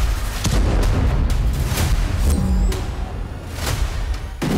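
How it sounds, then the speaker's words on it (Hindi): Several sharp blasts go off one after another as rockets strike Haifa, caught on a CCTV camera: distant-sounding booms cracking over a steady low roar. "हाइफा पर गिरे रॉकेटों के धमाके एक सीसीटीवी कैमरे में दर्ज हुए"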